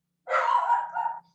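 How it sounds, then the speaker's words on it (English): A single dog bark heard indoors, one drawn-out yelping bark lasting about a second, fairly loud and close against a quiet background. "Let me yell at the dog."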